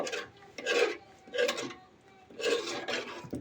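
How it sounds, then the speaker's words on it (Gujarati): A spoon scrapes and rasps around a pan of curry with water just added, in four separate strokes, close and fairly quiet, with short pauses between them. "હવે આપણે એને હલાવી નાખશું"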